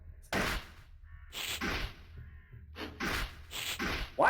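Crow-like caws from the Haunted PS1 Demo Disk game Spectral Mall, several harsh calls in bursts at a moderate level over a low ambient game drone, with no talking.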